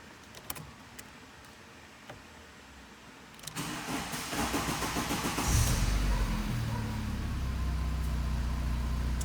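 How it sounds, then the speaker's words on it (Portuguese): A turbocharged VW Parati/Gol engine on a dynamometer cranks briefly and then fires up, settling into a loud, steady idle that holds up close until the end, after a few quiet clicks and knocks. "vocês vão observar que o carro vai ligar, vai manter a lenta mais alta e depois ele vai vir baixando"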